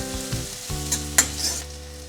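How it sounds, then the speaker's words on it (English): Sliced onion frying in a pan for chicken thukpa, a steady low sizzle with a few stirring scrapes and clinks, close and alone with no talking. "we'll season this onion. We'll just fry it until it gets translucent"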